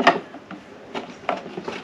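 A leg being screwed into a Beosound A9 speaker: a few sparse light mechanical clicks and scrapes of threading spaced out over a couple of seconds, close and quiet.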